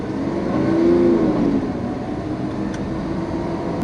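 The V12 of a Lamborghini Aventador LP700-4 drones loudly and steadily from inside the cabin, its pitch swelling briefly near the start before settling into an even roar.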